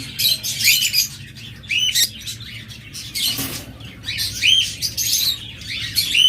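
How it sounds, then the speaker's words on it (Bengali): A pair of lovebirds chirping in bursts of sharp, high squawks and tweets, close and loud, with short pauses between the bursts. "একটা চমৎকার লাভার জোড়া রয়েছে"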